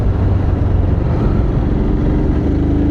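Motorcycle engine rumbling close by on a mountain road near Tenzingaon in Arunachal Pradesh, a steady loud low drone that swells slightly as it passes, with no talk over it.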